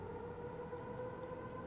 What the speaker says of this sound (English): those are air sirens